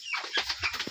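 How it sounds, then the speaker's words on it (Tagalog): A chicken clucks in short, closely spaced bursts near a home kitchen, fairly close and clear, with no talking over it. "Uy, manok la."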